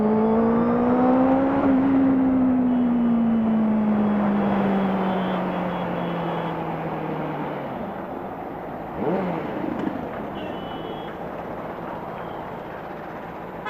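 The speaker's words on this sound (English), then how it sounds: "The sound is really amazing, but I was expecting more from this bike." A 2018 Benelli 600i ABS motorcycle being ridden in Delhi, its engine note loud and close, sliding down in pitch as the revs drop, then a brief burst of throttle before settling into a steadier drone.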